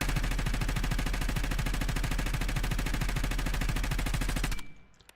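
Sustained rapid automatic fire from an XM4 rifle in the video game Warzone, a dense unbroken burst of loud close shots lasting several seconds before cutting off abruptly into quiet.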